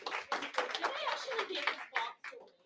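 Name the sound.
audience applause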